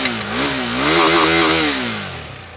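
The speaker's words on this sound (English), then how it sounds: "you wanna hear the engine?" A KTM 390 Adventure motorcycle engine runs close by, loud and buzzy, revving up through a smooth rise and easing back down over a couple of seconds, with no voices.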